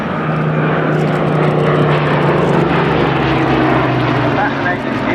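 A BBMF Spitfire Mark II, a Battle of Britain veteran WWII fighter, drones with a steady propeller engine at an air show, loud and continuous throughout with a low constant hum, while an announcer talks over it.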